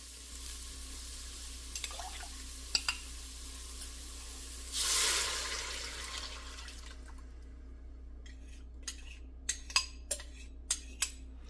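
Liquid, water or broth, goes into a cooking pot with tomato paste, a brief splashing pour midway, then scattered clinks of a utensil against the pot in a quiet kitchen.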